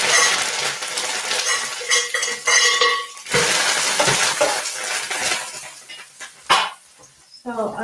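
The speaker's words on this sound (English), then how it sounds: "So I'm just going to add roughly chopped onion." Roughly chopped onion tipped into a pan of butter, with utensils clattering against the pan, stirring scrapes and a faint sizzle in a busy kitchen.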